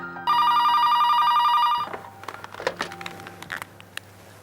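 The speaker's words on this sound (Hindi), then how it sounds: "फोन की घंटी।" A telephone bell rings loudly in one continuous electronic trill for about a second and a half, then stops. Scattered faint clicks and rustles follow, with no one speaking.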